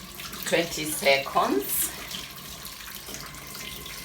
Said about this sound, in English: You make sure you wash every finger.